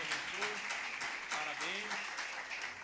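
Continuous applause from a church congregation, a dense, even wash of clapping with voices talking and calling out underneath throughout.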